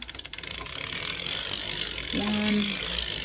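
Circular sock knitting machine cranked while knitting a short scrappy sock, giving a steady run of close mechanical ratchet-like clicks; a brief tonal squeak rises near the end.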